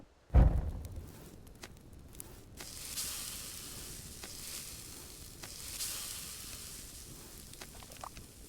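Food frying over a wilderness survival cookfire gives a soft, steady sizzle that swells and fades, opened by a single loud knock near the start, with no one talking.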